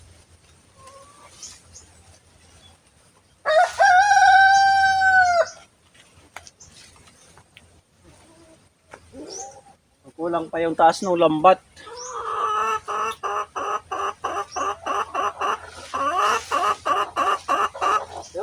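Chickens and a rooster on a backyard farm, with a loud crow breaking out near the start, more crowing and a long run of rhythmic clucking later, and someone talking quietly between the bursts.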